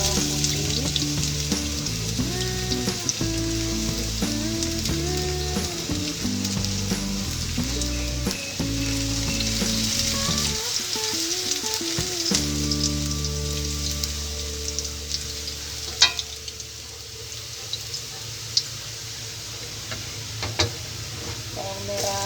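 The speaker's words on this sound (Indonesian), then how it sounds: "Ini minyaknya udah masak, udah panas ya. Kemudian masukkan bawang putih," Garlic dropped into hot cooking oil for stir-fried water spinach (cah kangkung) sizzles steadily and loudly up close, with a continuous crackling hiss running under background music throughout.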